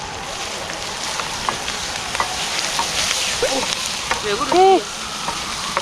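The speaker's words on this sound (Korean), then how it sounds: "고기 먼저 볶을게요." Meat stir-fries in oil over a campfire while black bean noodles are made, a continuous crackling sizzle with scraping stirs, and a voice speaks briefly near the end.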